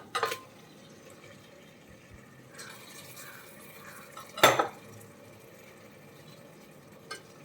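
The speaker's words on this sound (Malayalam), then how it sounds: "നമുക്ക് ഈ സമയത്ത് നമ്മൾ എടുത്തു വെച്ചിരിക്കുന്ന ബീഫ് ചേർത്ത് കൊടുക്കാം" Washed beef going into a pan of spiced oil for palak beef curry: a few clanks of a utensil on the pan, one louder clatter in the middle, over a faint low hiss, no talk.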